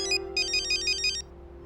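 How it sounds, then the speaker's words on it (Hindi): A mobile phone ringtone trills out as a quick series of high, bright electronic pulses that stop abruptly after about a second, heard over a steady low hum with no one talking. "समधी जी का फोन आ गया"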